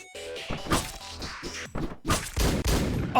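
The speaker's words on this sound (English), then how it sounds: "Oh, God, shotguns. Shotguns not good." Shotgun blasts in a video game during an intense firefight: several loud, heavy booming shots in quick succession with clattering impacts, close and dominant, with no talking.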